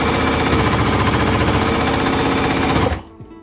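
An Elna Covermax five-thread coverstitch machine running fast and loud with a dense, rapid mechanical chatter for about three seconds, then stopping abruptly and leaving faint clicks and quiet room sound.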